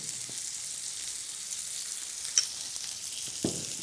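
A homemade burger patty frying in a pan. A steady, hissing sizzle is heard close up and alone, with a couple of faint knocks partway through.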